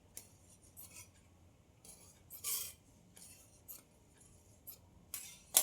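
Scissors cut blouse fabric in a few short, quiet snips with gaps between them, crisp and close, with no talking.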